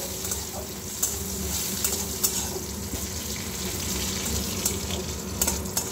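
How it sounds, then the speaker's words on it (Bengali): Crushed garlic and radhuni seeds fry in hot oil for a masoor dal with spinach, giving a steady, close sizzle flecked with small crackles. "রসুনটা ভালোভাবে ভাজা ভাজা হয়ে গেছে"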